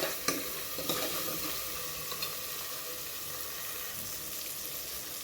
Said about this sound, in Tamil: நல்லா வதங்கட்டும் தக்காளி.